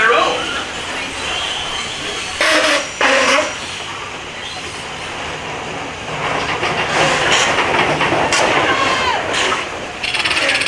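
A roller coaster train at Disney World rattles and clatters along the track with bursts of louder rushing and clanking, steady mechanical noise throughout.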